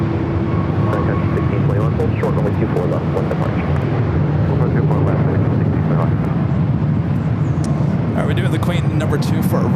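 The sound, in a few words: Sun Country Boeing 737-800 arriving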